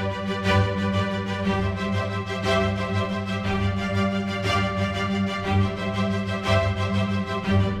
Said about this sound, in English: So if, for example, I choose strings basic triplets here and have a listen to that,